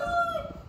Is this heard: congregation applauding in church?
no